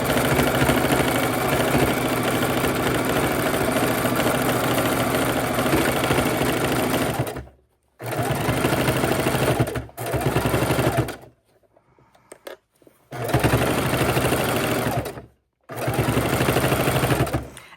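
A sewing machine runs a straight stitch through fabric for potato warmers in bursts of steady, rapid whirring, close and loud, with short pauses between runs.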